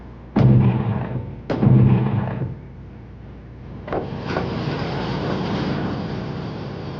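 A loud gunfire volley booms twice in quick succession, each blast ringing out and decaying, followed by a rumbling roll of further distant shots.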